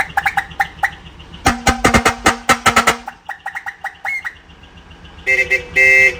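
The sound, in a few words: truck air horns honking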